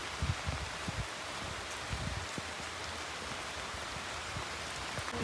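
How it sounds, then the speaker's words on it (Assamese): Heavy rain pours steadily at Dibrugarh University, a dense continuous wash with scattered nearby drips and splashes, no voices. "বৰষুণ জোৰছে দিছে, আমি এতিয়া আকৌ ৰখি যাব লাগিব"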